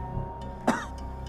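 A single short, hoarse cough from an elderly man, fairly close and isolated against a quiet indoor background.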